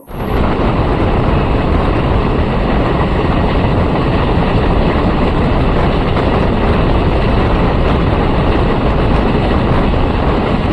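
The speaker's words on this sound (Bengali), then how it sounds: "ট্রেনে করে জার্নি করতে করতে" A loud, steady rumbling roar runs throughout, like a local train moving along the tracks from Lataguri to Siliguri heard from inside a carriage.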